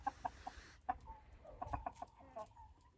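Ayam Cemani chickens in their coop on a hobby farm near Ankara, giving short clucks and soft calls at close range, scattered irregularly across a quiet background.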